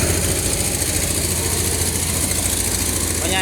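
A rice threshing vehicle's engine idles in a Lao farm field, giving a loud, steady low rumble and vibrating drone that holds constant from start to finish.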